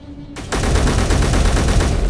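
Rapid automatic gunfire from a long rifle in the video game Space Engineers, during a snowstorm survival mission. It opens after a brief quiet moment with a steady, loud, continuous burst of shots.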